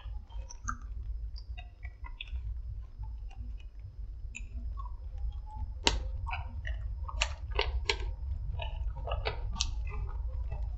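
Someone chews crunchy Reese's Pieces with Peanuts candy, shell-coated peanut-butter pieces, giving close, irregular crisp clicks and crunches that grow denser and louder toward the end, with no talking.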